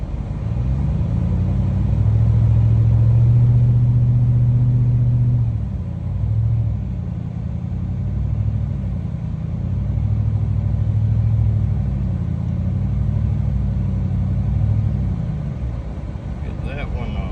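A four-wheel-drive vehicle's engine rumbles steadily up close as it pulls a vintage mower out of weeds, its low drone swelling and easing in slow waves of revving throughout.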